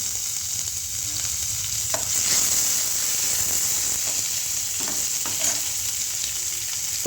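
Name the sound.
onions and curry leaves frying in a pan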